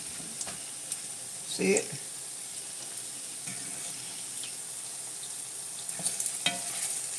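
Bread fries in hot grease with a faint, steady sizzle and a few soft pops and clinks, and a voice speaks briefly once.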